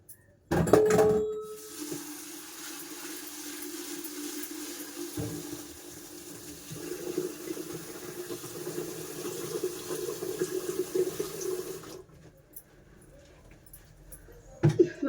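Tap water runs steadily into a container to soak lentils in a home kitchen, a continuous close splashing flow that starts with a clatter and stops abruptly near the end.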